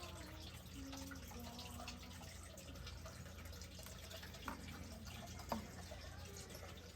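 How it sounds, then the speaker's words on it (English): Water trickles and drips steadily out of a small lifted sieve used for a reef aquarium feeder, a faint continuous patter with a couple of soft splashes, nearby. "we just lift up this little sieve. We're gonna let it drain out a little bit here."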